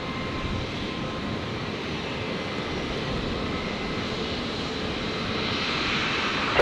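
Jetstar jet airliner in new livery at Brisbane Airport, a steady broad engine roar holding at constant loudness throughout, close and dominant with no talk.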